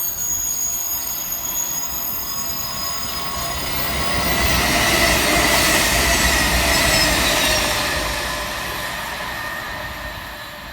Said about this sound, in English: going southbound for cross country will be 221-114, working 1 Oscar 14 from Manchester Piccadilly through to Bournemouth